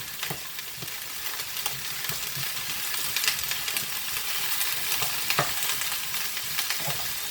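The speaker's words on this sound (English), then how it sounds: "I'm going to use the same skillet for my shrimp." Shrimp and onions fry in a skillet with a constant close sizzle, broken by repeated scraping clicks of stirring throughout, and no one talks.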